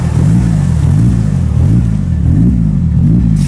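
A 1995 Mitsubishi Eclipse GS-T engine revs loud and close in steady rising and falling rumbling cycles, with a deep low-mid drone running the whole way.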